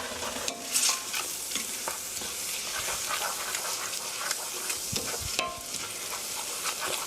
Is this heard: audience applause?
no